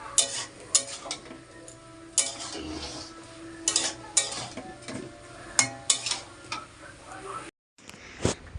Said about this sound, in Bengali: ভালো করে কষিয়ে নেবো ওটা, যতক্ষণ তেল ছাড়বে